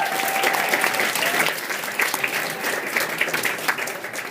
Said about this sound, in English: Give a round of applause to these people.